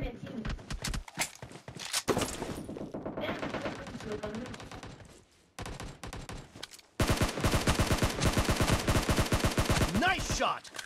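Rapid bursts of automatic gunfire in the mobile shooter PUBG Mobile, sharp cracks in quick, dense volleys with short pauses, close and loud, mixed with voices talking.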